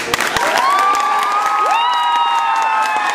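Audience applauding and cheering after a performance, dense clapping with rising whoops and sustained shouted cheers, loud and close throughout.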